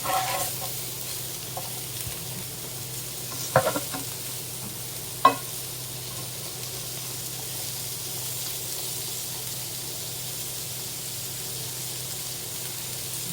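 Sliced hot dogs fry and get stirred in a pan, giving a steady low sizzle with a few brief scraping knocks early on, alone and without talk.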